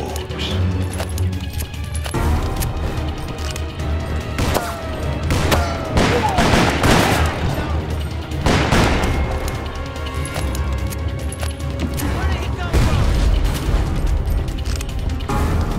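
Dense gunfire in the video game Call of Juarez at a mine, continuous loud bursts and booming shots overlapping with crashes and clanks for the whole stretch.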